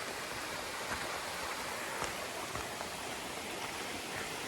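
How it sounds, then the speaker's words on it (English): Shallow stream water flows in a steady hissing rush with occasional soft splashes and gurgles, close and constant, no talking. "A bit of flowing water."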